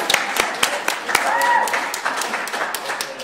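A university forum audience gives itself a round of applause, a moderate spread of clapping with a few sharp close claps standing out, and people talking and cheering beneath it.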